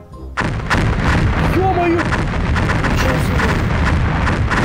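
Explosions from a bomb in the video game Garry's Mod fill the clip with a dense, sustained roar of booms that begins abruptly and stays loud throughout, with someone talking over the blasts.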